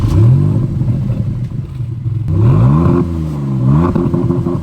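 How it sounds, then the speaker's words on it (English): A Maserati MC20 Cielo engine revs loudly and close, its pitch sweeping up and down through several throttle blips and gear changes. "when you are pushing this vehicle, oh my God, does this engine perform."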